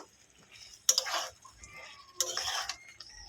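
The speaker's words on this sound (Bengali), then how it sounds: "এবারে ভেজে রাখা কচু আর আলুটা দিয়ে দেবো ভালো করে এটাকে পাঁচ মিনিট কষিয়ে নেব" A utensil scrapes and clatters in a pan while fried taro and potato are stirred and cooked down, two distinct bursts of stirring noise separated by a short quieter pause, close and moderately loud.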